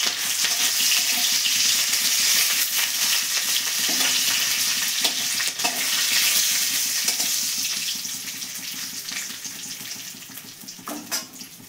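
Black cumin, cardamom, cinnamon and cloves frying in hot oil over a raised gas flame, giving a dense continuous sizzle with occasional stirring clicks that eases slightly toward the end.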